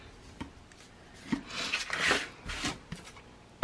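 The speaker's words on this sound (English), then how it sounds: "It's a very smooth score." A tool scoring a line into paper makes soft rubbing and rasping strokes, several in a row, quiet and close with no voices.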